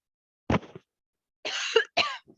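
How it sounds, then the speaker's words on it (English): A presenter giving a talk coughs several times, close and isolated, one sharp cough followed by a pair of harsher bursts separated by silence. "I have to cough"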